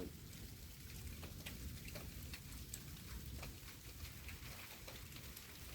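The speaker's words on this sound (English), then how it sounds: "As you can hear, it's raining like crazy right now." Heavy rain pours steadily during a severe thunderstorm in Wewoka, Oklahoma, a dense, continuous wash of drops hitting surfaces close by, with no voices over it.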